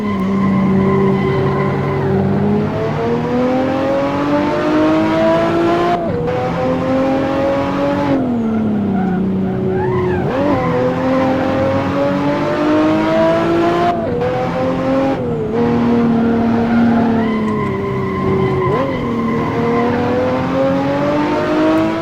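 A race car in the Assetto Corsa racing game roars continuously at close range, its engine revving up and down while the tires skid and squeal through corners, with no talking.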